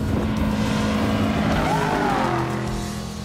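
Off-road race truck in the Baja Nevada desert race running wide open past the listener, a loud continuous engine roar with a tonal sweep as it goes by, fading slightly at the end.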